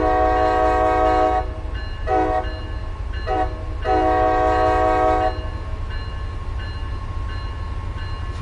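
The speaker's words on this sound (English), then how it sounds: "And we'll see the train depart at least." An MBTA commuter train in Train Sim World 5 sounds its horn in several long blasts over a steady diesel rumble as it departs, loud and continuous with no talking.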